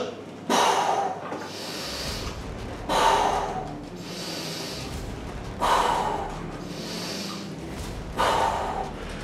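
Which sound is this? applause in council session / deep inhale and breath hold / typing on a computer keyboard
deep inhale and breath hold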